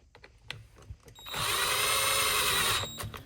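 Power driver whirring as it screws a torx-bit screw into the plastic air filter housing of a Poulan P3314 chainsaw, one steady burst of about a second and a half after some light handling clicks, close and loud.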